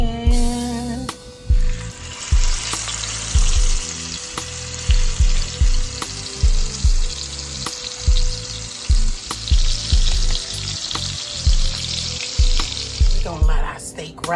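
Shrimp fry in butter and oil in a hot pan, giving a loud, steady sizzle for the whole stretch, with frequent utensil knocks and scrapes against the pan over the top and no talking.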